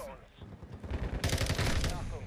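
Rapid video-game gunfire on the Call of Duty Shipment map, a dense burst of shots that swells loud in the second half after quieter scattered firing.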